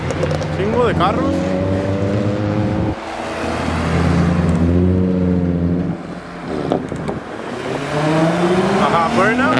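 A tuned car doing a burnout at a car show, the engine revving hard and rising in pitch in repeated surges, loud and close, with people talking around it.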